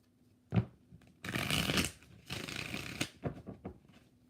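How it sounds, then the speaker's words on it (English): Tarot cards shuffled during a live reading give two long riffling bursts of papery flutter, framed by a few sharp taps and card snaps, close and fairly loud with no talk over them. "Three more shuffles."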